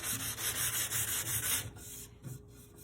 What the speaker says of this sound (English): So I just take a sanding block really gently.